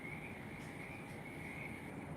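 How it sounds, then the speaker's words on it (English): Crickets chirp at night in a steady, faint outdoor trill, a continuous high buzz with no voices, heard from a distance. "Crickets are out there."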